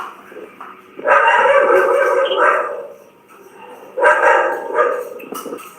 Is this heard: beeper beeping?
no